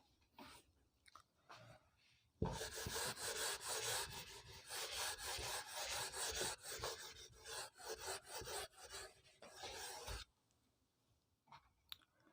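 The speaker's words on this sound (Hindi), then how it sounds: "थोड़ा रब करना पड़ेगा।" An eraser rubs out pencil working on a maths exam paper in a steady, rasping back-and-forth scrub that lasts about eight seconds. Near silence comes before and after it.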